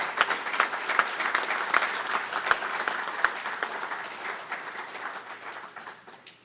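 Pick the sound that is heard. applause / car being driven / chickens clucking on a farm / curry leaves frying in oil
applause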